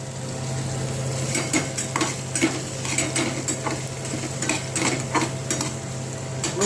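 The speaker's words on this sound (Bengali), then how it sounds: "এবার রসুন দিয়ে দেবো রসুনটা আমার সাথে থেতো করে দিয়েছি" Crushed garlic goes into hot oil with panch phoron and dried red chillies, sizzling steadily while a utensil scrapes and stirs the pan in repeated close strokes, with no speech.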